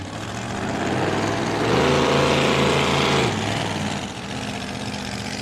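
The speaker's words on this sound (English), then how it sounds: "That beautiful Toyota engine you can hear gently purring as it heads away" A racing boat's Toyota engine purrs steadily at moderate volume, swelling briefly louder midway before easing back as the boat heads away, with no talk over it.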